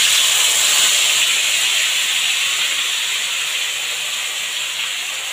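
Mustard paste and green chillies hitting hot oil for a hilsa fish curry, a loud, steady, bright sizzling hiss that fades slightly over several seconds, with no talking.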